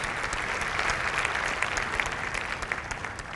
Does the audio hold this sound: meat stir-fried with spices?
no